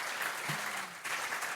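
Audience applause at a live car-talk show event, a steady wash of clapping from a crowd that holds evenly throughout with a brief dip near the middle.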